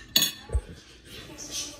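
A spoon clinks twice against a dish of microwaved frozen macaroni and cauliflower in cheese sauce, two sharp close taps followed by soft scraping and faint rustle.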